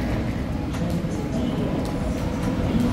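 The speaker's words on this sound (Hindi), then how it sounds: "तो मेट्रो आ गई है" A metro train arrives at a station with a loud, steady rumble of wheels and carriage noise that fills the whole stretch without a break.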